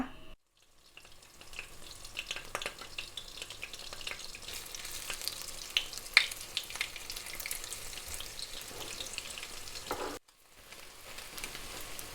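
Beaten eggs frying for a Thai omelette in hot oil, a steady loud crackling sizzle with scattered pops and stirring scrapes, continuous for about ten seconds before briefly cutting out, no talking.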